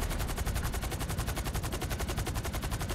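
Rapid automatic gunfire in GTA 5 Online rattles nonstop in an even, fast rhythm for the whole stretch, loud and close.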